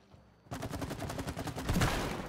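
Rapid gunfire aimed at a wall in the co-op game It Takes Two: after a quiet half second, a fast rattling stream of shots starts and continues steadily, growing slightly louder, close and without speech.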